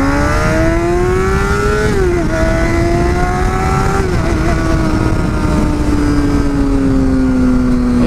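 A Honda CBR600RR motorcycle in traffic with an engine misfire, a loud, close buzzing engine note that dips and stumbles briefly twice before settling into a steady, slightly falling drone.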